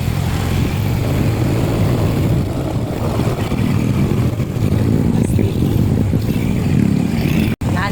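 A motorcycle, a Yamaha Mio scooter, carries a rider and passenger uphill, its steady engine drone and wind noise continuous throughout, with a brief dropout near the end.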